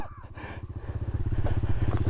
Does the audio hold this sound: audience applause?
no